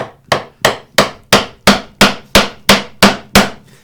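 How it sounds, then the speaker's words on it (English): A chisel is hammered into a wood mortise on a workbench in about ten loud, evenly spaced blows, each a sharp close knock with a quick fading ring, and no talk. "I can just keep pounding, just make sure I don't pound through into my bench"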